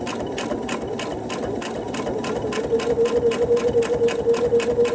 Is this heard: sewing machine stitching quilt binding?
yes